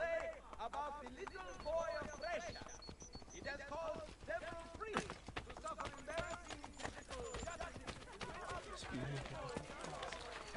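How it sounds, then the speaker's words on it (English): Horses' hooves clip-clop in rapid, overlapping trotting rhythms inside Assassin's Creed Brotherhood, with scattered whinnies and game speech layered over the steady clatter. "As you can hear, there is a lot of horses' hooves"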